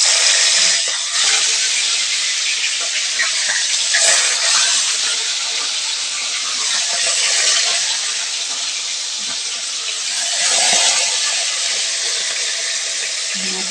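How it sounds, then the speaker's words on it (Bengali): Fish pieces frying in hot oil in a pan, giving a loud, steady broadband sizzle that holds for the whole stretch with slight swells and crackles. "এবার মাছগুলো একটু একটু করে ভেজে নেব"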